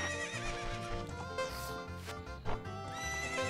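Epona the horse in The Legend of Zelda: Ocarina of Time gives a neigh against steady game music, with clip-clopping hooves.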